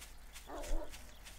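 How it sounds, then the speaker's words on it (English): A dog in the 7 Days to Die game gives a short bark or yip close behind the player, a single brief burst heard alone over a faint background hum. "There's a dog."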